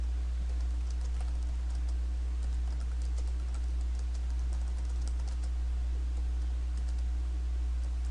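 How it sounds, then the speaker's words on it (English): An answer being typed on a computer keyboard gives light, quick key clicks in irregular bursts over a loud steady low hum. "Students click on the box and type their answer."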